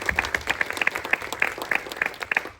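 Audience applause at a Golstalgia fan event in Basel, a moderate crowd clapping in a quick, uneven patter with a few louder claps cutting through, steady for a couple of seconds.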